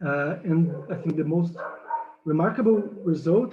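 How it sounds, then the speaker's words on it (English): Dogs bark and yip repeatedly in short bursts close by, running underneath a man's steady lecture speech. "Sorry for the dogs."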